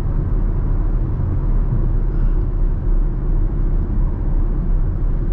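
A Chevrolet Camaro drives steadily, its engine and road noise heard from inside as a constant low rumble with no speech.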